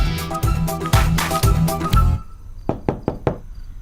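Knocking on a house door: a loud burst of rapid raps in the first half over some background, then four separate, sharper knocks spaced out toward the end.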